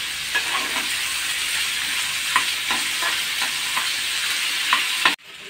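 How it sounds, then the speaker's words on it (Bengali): Ingredients for a chicken kulhad pizza lightly frying in a pan, a steady close sizzle with occasional stirring scrapes, no talk, ending abruptly. "দিয়ে আমার ভালো করে হালকা ফ্রাই করে নিতে হবে"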